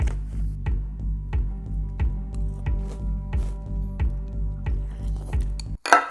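Brightly coloured knockoff Lucky Charms-style cereal spilling in a series of repeated clattering bursts against a hard surface, with a sharper rattling scatter at the very end.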